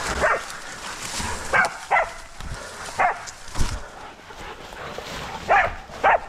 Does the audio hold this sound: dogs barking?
yes